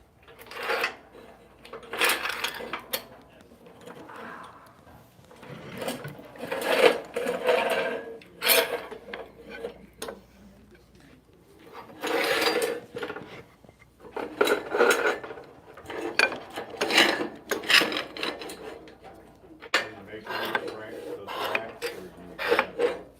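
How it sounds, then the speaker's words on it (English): Woodworking clamps being handled and prepped for a glue-up of boards, giving bursts of metallic rasping, rubbing and clinking in uneven clusters, close and moderately loud, with brief pauses between. "Get these clamps prepped here."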